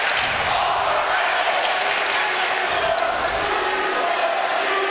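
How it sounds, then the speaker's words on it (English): Student crowd at a Colonia vs. St. Joseph's boys high school basketball conference final, chanting in a steady, loud roar that fills the gym, with no clear rhythm of separate words. "Colonia crowd chanting overrated."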